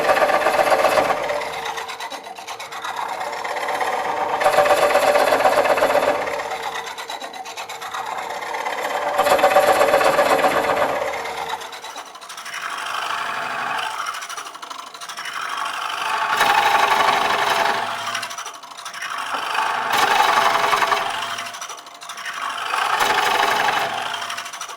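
A Woodcut Tools Bowlsaver cores a wooden bowl, a steady grinding, rasping cut that swells and eases in repeated passes, close and fairly loud with no talking.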